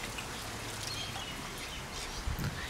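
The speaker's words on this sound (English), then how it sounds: "It's lovely to have rain for once" Rain falls steadily outdoors in a yard with a husky and a malamute, a soft continuous patter with faint bird calls and a brief low thump near the end, no voices.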